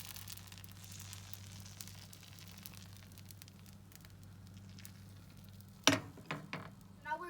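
Crepe batter hits an oiled pan and sizzles with a faint, steady frying hiss beneath a low hum, ending with a few louder scrapes and clatters.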